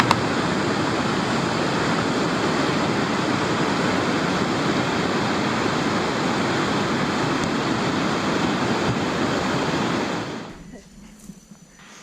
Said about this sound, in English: Other times, I like to explore rivers with rapids where the water flows very,